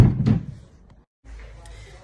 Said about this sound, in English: and then closing the door behind us.